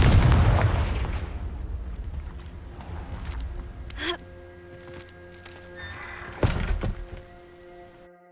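A Confringo fire spell blasting in Hogwarts Legacy: a sharp boom near the start, then softer cracks and a second bright burst, over a low rumbling game soundscape with tonal hums.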